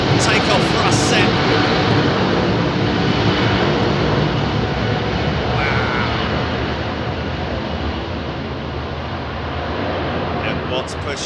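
Airliner engines spool up to takeoff thrust at Heathrow, a heavy, steady roar filling the whole clip and easing slightly toward the end, with people talking faintly beneath it.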